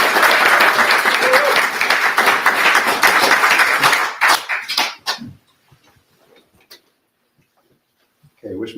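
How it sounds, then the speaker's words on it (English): An audience bursts into dense applause that holds steady for several seconds, then thins into scattered claps and fades to silence, followed by a brief sound at the very end. "Let's all give a hand of applause."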